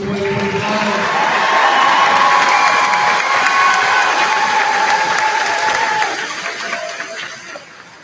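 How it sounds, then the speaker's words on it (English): Graduation ceremony crowd for the class of 2025 cheering, whooping and applauding in a large mixed roar that holds steady, then thins out toward the end. "Can we get one more round of applause for the class of 2025?"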